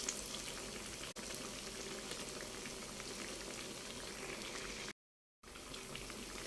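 Falafel coated in sesame seeds fries in hot oil with a steady, dense bubbling sizzle. The sound holds throughout, broken only by a brief moment of silence near the end.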